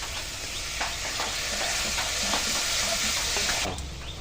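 A spice paste thinned with water sautéing in a pan for a light gravy of bele and tengra fish with ridge gourd and potato, a loud, continuous sizzle with scraping stirs across it.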